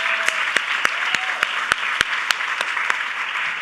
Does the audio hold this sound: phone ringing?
no